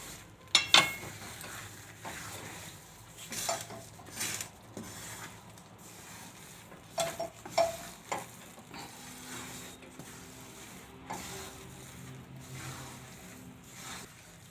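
A spoon stirring a ghee and rice laddu mixture in a pan, with soft irregular scraping and rubbing strokes, some louder bursts, close and fairly quiet with no talk.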